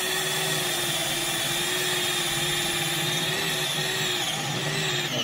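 A fresh drill bit bores steadily through a rusty steel body panel on a 1989 Vogue SE, giving a continuous high whine with a grinding edge that stays loud and close for the whole stretch.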